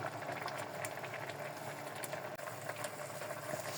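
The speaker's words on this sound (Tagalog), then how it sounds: "Ayan, sobrang kulo na." Ginataang tilapia simmers in coconut milk in a pot, a soft, steady bubbling and faint crackle at low volume, with a brief clink partway through.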